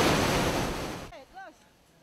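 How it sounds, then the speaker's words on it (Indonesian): High sea waves at Kuta Beach, with the sea overflowing onto the vendors' area, rush as a loud broadband roar for about a second before cutting off abruptly, after which faint voices follow. "Air laut meluber hingga mencapai tempat pedagang berjualan di Pantai Kuta."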